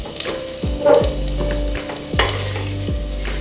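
Potato pieces sizzle and crackle steadily in hot oil while being fried for a mutton curry, with occasional stirring scrapes over the constant close frying hiss.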